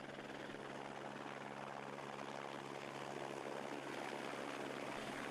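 A Eurocopter AS350 B3 Écureuil helicopter gives off a steady, unbroken roar of rotor and turbine, even in level throughout with no voices.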